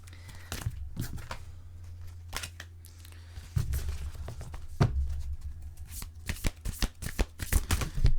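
Tarot cards shuffled by hand nearby, in irregular bursts of crisp flapping and sliding that grow busier toward the end, with no talking.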